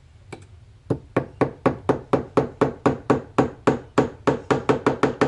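A hammer taps axles into a pinewood derby car in a home garage, striking about twenty sharp, evenly spaced blows up close after a couple of lighter taps, with no talking.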